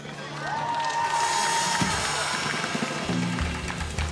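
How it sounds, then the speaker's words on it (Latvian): Crowd at a live Latvian championship event cheering and applauding, a broad roar of voices and clapping with a rising tone and music-like layers, loud and sustained. "Aplausi jums!"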